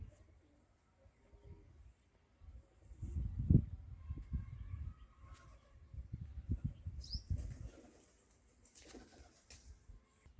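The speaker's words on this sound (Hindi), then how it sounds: "और कूड़ा में कबूतर भी है भाई" Pigeons in a rubbish heap beat their wings in several short, fluttering bursts, soft cooing and faint chirps mixed in, close by against a quiet background.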